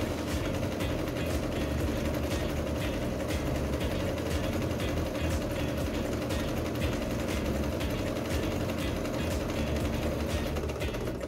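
A Starlet 6660 sewing machine runs steadily for about eleven seconds, stitching the sides of fabric straps with a continuous mechanical whir and fast ticking rhythm, loud and close with no talking.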